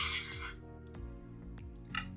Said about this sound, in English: I love the sound of it writing the new map.